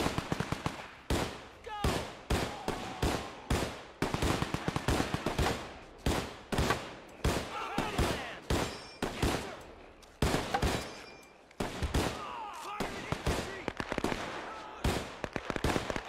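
Machine gun fire in the war strategy game Men of War 2, with repeated sharp bursts and rapid shots in an irregular rhythm, loud and close, continuing throughout with little pause.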